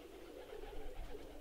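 Pigeons coo softly in the game Randal's Monday, a faint, low burbling call repeating over a quiet ambient background.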